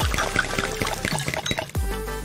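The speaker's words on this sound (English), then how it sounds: "Then add some heavy cream." Heavy cream is poured into melted green candy. The liquid splashes and trickles under a bed of bright background music, with a deeper thud near the end.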